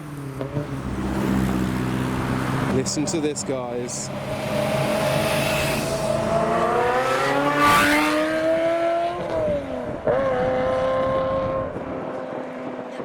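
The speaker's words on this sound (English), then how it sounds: "In the distance we can hear a Ferrari 355 with a Capricer exhaust" A Ferrari 355 fitted with a Capristo exhaust revs at a custom car gathering on a closed road. Its engine note climbs and falls in long sweeps, heard at a distance while someone talks over it.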